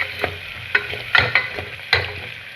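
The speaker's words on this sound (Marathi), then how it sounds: "नंतर लसूण टाकत आहे. लसूण पण 1 मिनिट परतून घ्यायचा." Garlic fries in a pan with browned onion while a spoon stirs it, sharp scraping clacks landing every half second or so over a light background sizzle.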